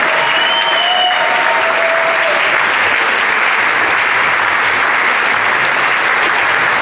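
A congregation applauds loudly at a church sermon, dense continuous clapping that stays steady and close for several seconds with no voices on top.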